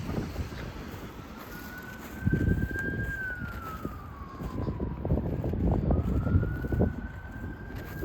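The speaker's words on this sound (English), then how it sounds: "I'm hearing sirens for the last 4 minutes." A distant siren wails, its pitch slowly rising and falling, over wind rumble and low outdoor noise.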